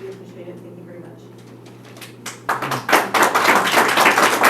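A commission meeting audience bursts into clapping, rising from quiet room noise into a loud, dense spatter of hands that builds and holds for a few seconds.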